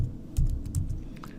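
Typing on a computer keyboard, a quick run of light clicky keystrokes at close range with uneven rhythm, the strokes varying slightly in loudness, with no talking.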